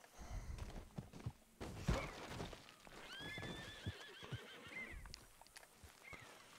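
A horse in the video game Red Dead Redemption 2 lets out a long, wavering whinny at moderate distance, surrounded by scattered hoof clops, thumps and rustling movement.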